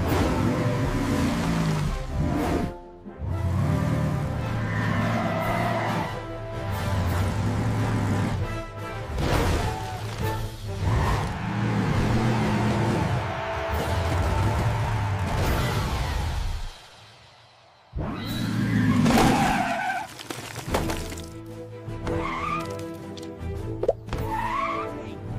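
Blaze, a cartoon monster truck, roars at full power through a mud pit, a loud sustained engine drone with whooshing surges and a skid. The sound drops out briefly, then resumes, with effects layered densely.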